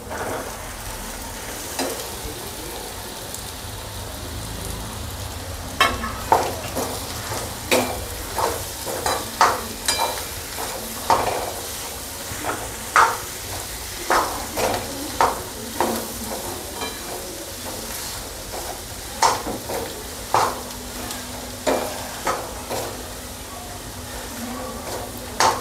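Crushed potatoes tipped into a hot frying pan with red chili powder for kanda batata kachori filling, sizzling under repeated scraping spoon strokes in an irregular close rhythm.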